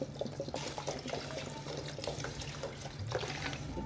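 Water pours steadily from a tap into a cooking pot for rice. The stream is continuous and close, with small splashing irregularities and no talking.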